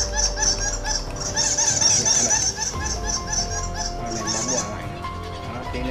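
Recorded male bat calls played from a bat-lure speaker meant to draw bats to a roosting hut, a dense run of rapid high chirps repeating loudly and steadily without a break.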